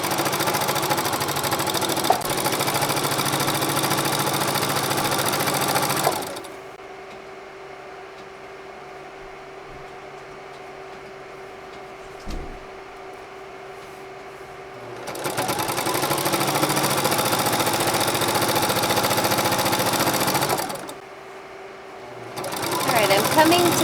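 Sewing machine stitching a baby blanket, a loud steady mechanical whir in two long runs separated by quieter pauses, with a brief restart at the end.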